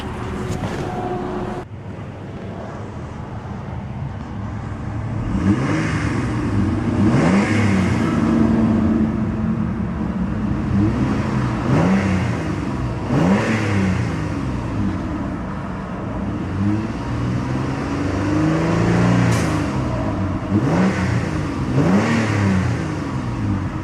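A 2007 Mitsubishi Galant GTS with the 3.8-liter engine revs repeatedly, each rise and fall in pitch clear and steady against a constant exhaust drone, heard up close with some wind noise and no talking.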